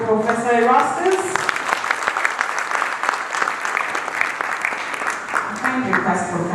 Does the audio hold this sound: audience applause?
yes